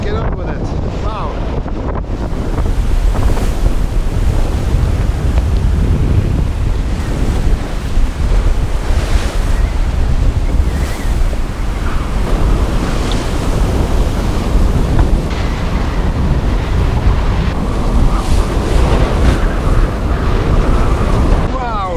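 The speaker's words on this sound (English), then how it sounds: "Sharp waves, 7 knots." Sharp sea waves and strong wind buffeting a boat on a heavy North Atlantic crossing, a constant loud roar of surf and wind noise on the microphone with brief voices.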